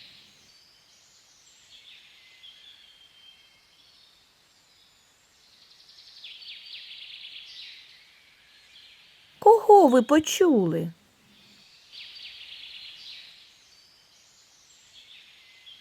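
Birds sing in a park with faint, high chirps and twitters scattered across the scene. A voice briefly speaks in the middle.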